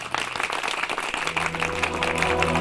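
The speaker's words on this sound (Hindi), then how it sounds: "और तालियां बरसती हैं उस पर।" A studio audience at a dance talent show applauds a contestant, a dense burst of clapping and cheering mixed with a steady musical tone and a voice talking.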